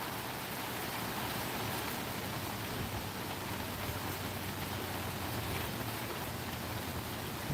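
Steady rain patters onto an umbrella held overhead, a dense, even hiss of drops that stays constant and close throughout, with no voices.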